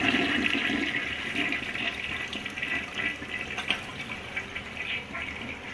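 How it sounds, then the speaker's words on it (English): A toilet flushing during a move-in inspection, a steady close rush of water that holds strongly at first, then eases into a softer gurgling refill. "Do a quick water flush and make sure it's okay."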